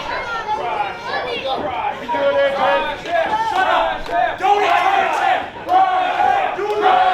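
A wrestling crowd at a three-way match cheers and chants loudly throughout, a dense, continuous roar that rises and falls in waves.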